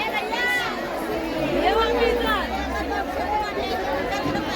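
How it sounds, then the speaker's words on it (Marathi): Steady crowd chatter fills the busy Malad fish market in Mumbai, with many overlapping voices close and far and a continuous bustling murmur throughout. "गर्दीचा बाजार मालाडचा"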